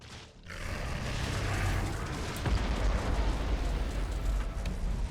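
Torpedo explosions hitting ships in the Star Trek Armada 2 video game, a deep rumbling boom that swells and keeps roaring with layered low blasts, moderately loud and continuous.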